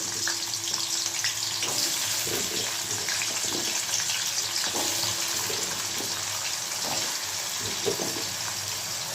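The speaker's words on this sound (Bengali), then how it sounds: "আলুটা আলুটা হালকা ফ্রাই করে নিতে হবে" Potatoes frying lightly in a pan for a Bengali mete chorchori dish, a steady close hiss and sizzle running evenly throughout with small crackles and no talking.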